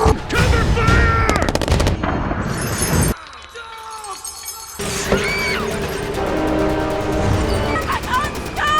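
Battle gunfire from a Transformers: Dark of the Moon film scene, with loud bursts of shots and crashing debris coming close together, under shouted voices and a dense action soundtrack.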